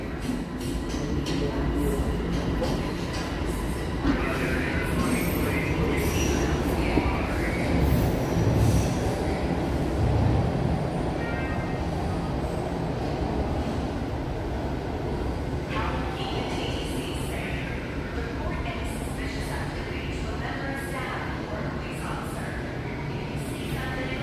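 Toronto TTC subway train moving through the system, a continuous rumble with wheel squeal and clacking, heard close, while people talk over it.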